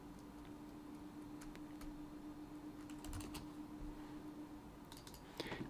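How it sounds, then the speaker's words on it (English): Someone types on a computer keyboard, a quiet, irregular run of soft key clicks with occasional clustered bursts against faint background hum. "I'm typing this kind of shit."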